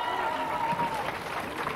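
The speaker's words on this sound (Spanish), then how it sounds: "Un aplauso para él" Brief applause from a studio audience at a Saturday variety show at a record fair, a steady wash of clapping at moderate volume with a faint tone running under it.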